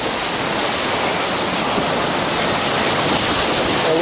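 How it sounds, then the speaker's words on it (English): Continuous loud rushing roar of ocean surf breaking at Bondi Beach, Sydney, dense and steady with no pauses or voices. "the waves are breaking a little bit closer here"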